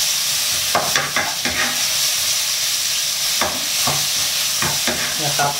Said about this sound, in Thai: ช่วงผัดหมูก็เร่งไฟหน่อยนะครับพยายามยีหมู